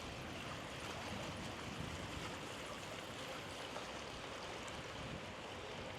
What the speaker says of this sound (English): It's a spillway. I've never seen a spillway like this.